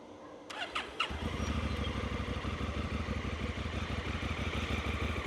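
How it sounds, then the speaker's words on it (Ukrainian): A Honda Africa Twin CRF1000L motorcycle engine cranks briefly, catches and settles into a steady, throbbing idle close by, with some light clatter at the start. "Запустимо двигун"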